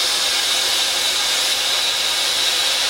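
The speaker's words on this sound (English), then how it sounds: "Make sure you do get well into the finish of the last welding rod with your new welding rod." Steel being arc welded with a welding rod on a new RDF build, a steady, loud, dense crackling hiss running unbroken throughout with no voices.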